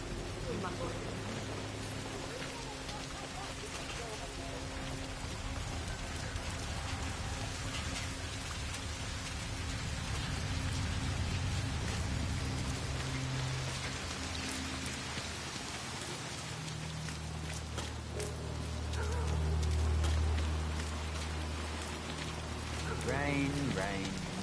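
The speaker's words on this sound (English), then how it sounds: "Rain, rain, nothing but rain." Steady rain falls in the stealth game Hitman 3, a constant hiss of drops on surfaces with low hum and distant rumbles underneath, while people talk over it at times.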